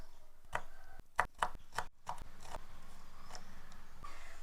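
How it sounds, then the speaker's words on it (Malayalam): Two green chillies being chopped with a knife on a cutting board in a Kerala kitchen, a handful of crisp, close knife taps in an uneven cluster, then quiet background hiss. "ഇനി നമുക്ക് പച്ചമുളകും കൂടെ അരിയാം"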